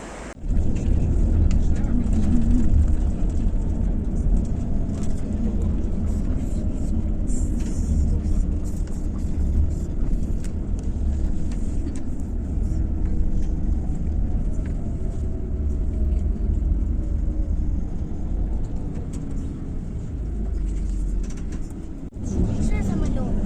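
Steady low rumble of road and engine noise from inside a moving vehicle on a long road trip, Kyiv to Chișinău, continuous throughout, with people talking over it.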